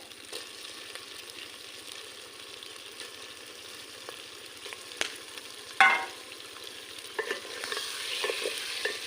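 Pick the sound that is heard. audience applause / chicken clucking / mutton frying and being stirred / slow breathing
mutton frying and being stirred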